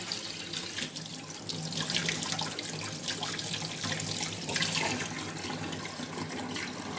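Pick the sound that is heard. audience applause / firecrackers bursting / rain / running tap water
running tap water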